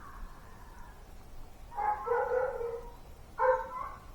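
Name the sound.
dog howling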